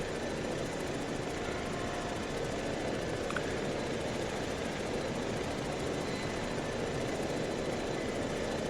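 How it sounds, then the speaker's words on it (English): Military aircraft with a 4th Infantry Brigade unit rumbles steadily while taxiing toward the runway, a constant loud engine drone with no pauses or voices. "When you want to, you can taxi down to the end of the runway"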